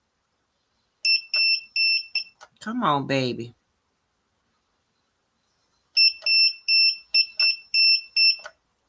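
Two bursts of rapid, high electronic beeping from a heat press used on tumblers, each a quick series of short pulses, separated by a brief spoken phrase in between.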